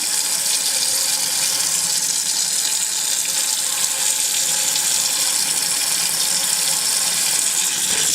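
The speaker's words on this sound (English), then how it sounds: "I want to turn off the water" Water pours steadily from a kitchen tap into a sink, a loud, continuous hiss and splash that holds unchanged throughout with no voices over it.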